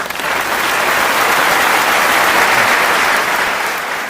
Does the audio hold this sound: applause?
yes